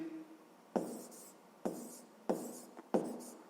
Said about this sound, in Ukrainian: І записуємо, що потрібно 74 907